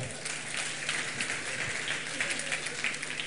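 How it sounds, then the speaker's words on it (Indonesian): Fairly quiet applause from a congregation, a short burst of many hands clapping at a steady level, heard from a distance. "Tepuk tangan semua"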